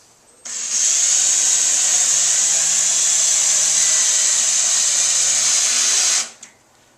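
A power drill driving screws into drywall during a large drywall repair, one sustained high whine lasting about six seconds close up, then stopping abruptly with a brief click.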